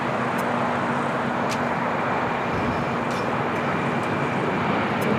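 A JetBlue Airways Airbus A321 jet taking off at LAX, heard as a steady, broadband engine roar, moderately loud and continuous, with a faint whine in the background and no voices.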